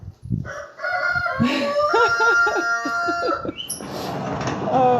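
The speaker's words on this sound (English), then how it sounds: "If the chicken squawks, Thelma, what do we do?" A chicken squawks loudly and close by in several strained, crowing calls on a farm, with a brief bit of talk and rustling around them.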